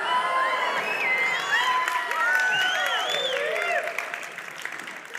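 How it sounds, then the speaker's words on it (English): An audience applauds and cheers in a steady, dense wash of clapping mixed with scattered shouts and whoops. The sound holds at full strength for several seconds, then thins near the end. "Don't clap because I'm almost done."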